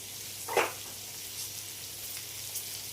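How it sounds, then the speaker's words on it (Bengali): Vegetables fry lightly in a pan with a soft, steady sizzle, joined by one brief louder hiss of stirring near the start. "সব সবজিগুলো আমি হালকা করে ভেজে নেব।"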